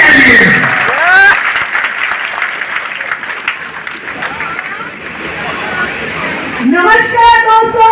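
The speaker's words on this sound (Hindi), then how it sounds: "अब तक की सबसे जोरदार ताली" An audience at a motivational business event applauds loudly and continuously, with whoops or cheers at the start and end and a voice over the applause.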